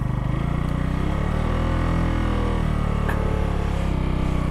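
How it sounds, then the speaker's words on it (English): A motorcycle engine held at light revs while the clutch is eased to its biting point, a loud, steady, throbbing hum with a low pulsing drone and a slight swell midway, no voices. "as you give it revs, you release the clutch a little bit"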